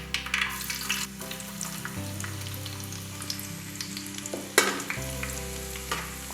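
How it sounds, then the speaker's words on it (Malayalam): Chopped shallots fry in hot oil with mustard seeds for a beef curry, giving a steady close sizzle with stirring scrapes and brief crackles, and no voices. "ഒരു 5 കൊച്ചുള്ളി ചെറുതായിട്ട് അരിഞ്ഞത് ഇതിനകത്തോട്ട് ഇട്ട് കൊടുക്കാം"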